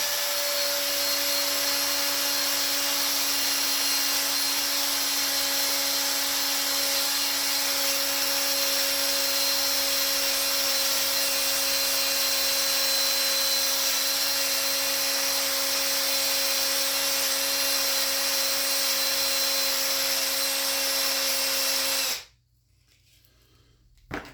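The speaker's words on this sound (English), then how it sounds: "Wire wheel up the machine surfaces" A wire wheel spins steadily against the cast metal surfaces of a Stanley Bailey #7 hand plane, a loud continuous whirring grind with a high whine that runs unbroken before cutting off abruptly near the end.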